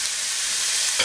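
Ground beef browning in a hot pan for lumpia filling, a steady close hiss of frying and sizzling that holds even throughout, with a brief louder flare at the end and no talking.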